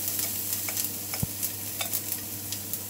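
Garlic fries in a pan for a mild Sri Lankan-style fish curry, giving a soft, faint sizzle with scattered light pops and stirring clicks, heard alone and close.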